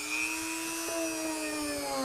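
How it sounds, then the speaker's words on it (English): Dremel rotary tool spinning a felt polishing bit loaded with polishing compound, a close, steady high-pitched whine with a slight pitch dip partway through. "Go ahead and hook that up on the Dremel."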